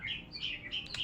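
A caged pet bird chirps in quick, high, fluttering phrases, several short calls in a row at moderate volume over a low background hum.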